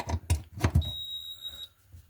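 A Xiaomi Ocooker rice cooker gives a single steady electronic beep about a second long after start is pressed, following a few soft handling knocks and taps close by.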